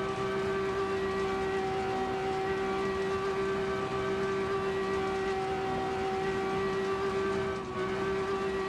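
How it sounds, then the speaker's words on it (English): A sustained, steady high-pitched whine with strong harmonic overtones, droning like a siren over a continuous engine rumble from a BMW E36 rally car in a rally video game, with no talking. "now the car sounds like a siren"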